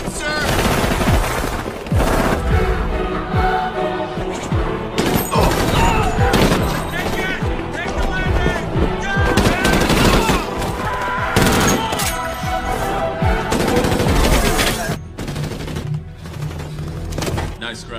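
Machine gun fire from a film battle scene: loud, dense bursts of rapid shots with occasional booms and crashes, continuing almost without a break over a heavy soundtrack.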